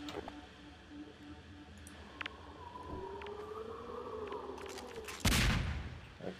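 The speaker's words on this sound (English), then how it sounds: "Okay, it's just normal grenade." A sudden loud blast, a grenade exploding in Half-Life 2, hits near the end after a stretch of quiet game ambience with faint ticks and a rising whine.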